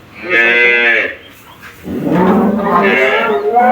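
Dairy cows on a cattle farm give a long, loud moo, then after a short pause a second drawn-out moo, close by and clear with no talk over them.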